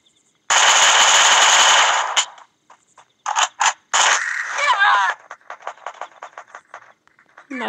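Rapid automatic gunfire from the video game Free Fire rips out in a loud sustained burst, then short volleys and scattered single shots with metallic scraping, close and intense, with a voice speaking over it.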